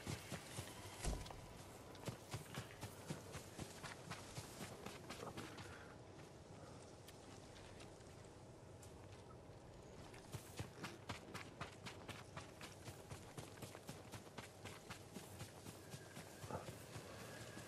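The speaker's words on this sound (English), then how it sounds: "That's my horse." Horse hooves pounding at a gallop in the samurai game Ghost of Tsushima, a steady rhythmic clatter with a brief slower stretch midway, set over a windy outdoor background with no talking.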